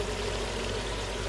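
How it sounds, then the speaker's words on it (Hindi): Water being poured into a pressure cooker holding ground saag and browned meat, a steady, close splashing rush that runs unbroken and alone for the whole moment. "अब इसमें थोड़ा सा पानी डाल के कुकर बंद कर देंगे"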